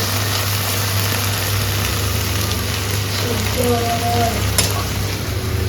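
Okra (lady finger) frying with dry fish in a pan crackles and sizzles continuously, with occasional stirring scrapes and a low background hum.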